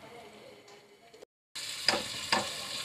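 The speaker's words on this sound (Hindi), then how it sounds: "प्याज को मैं कुछ देर के लिए इसी ऑयल में भूनूँगी ताकि इसका कच्चापन थोड़ा सा ख़त्म हो जाए।" Finely ground onions fry in oil for masala chicken karahi, a soft steady sizzle that cuts out briefly, then returns louder with a couple of sharp spoon clinks against the pan.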